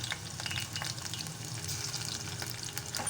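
Green chillies and onion frying in hot oil in a pan, a steady dense sizzle with crackling spatter throughout, close and alone.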